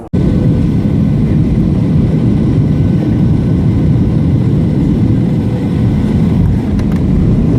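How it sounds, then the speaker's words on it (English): WestJet Boeing 737-700 touching down hard with a wing striking the runway, heard as a loud, continuous low-pitched engine and airframe roar that stays steady from start to finish. "WESTJET 737-700 hard landing."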